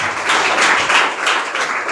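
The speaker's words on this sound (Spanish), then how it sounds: "Cuando le dan un aplauso al Señor" Church congregation applauding the Lord, a dense, loud, sustained clapping wash with slight swells, close and continuous.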